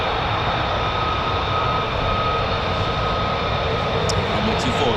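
A military jet lining up on runway 24 at RAF Lakenheath produces a loud, steady engine roar and high whine that hold evenly throughout.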